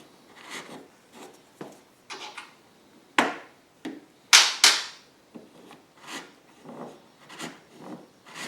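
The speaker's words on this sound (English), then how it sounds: "I'm going to take a repairman's reamer and do the last little bit by hand" Intermittent scraping and rasping of a repairman's reamer hand-reaming a drilled hole in a GenMax GM9000iED generator's fuel tank, with short grinding strokes and a few sharp clicks, close up and without talk.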